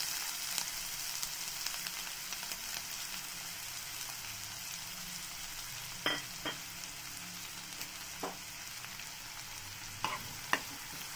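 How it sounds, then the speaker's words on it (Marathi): Chopped onion going into hot oil with cardamom, cumin, a bay leaf and a cinnamon stick for mushroom masala: a faint, steady hiss and crackle with a few soft, scattered clicks of utensil against the pan. "ह्याच्यामध्ये लगेच आपल्याला काय कांदा घालून घ्यायचा आहे"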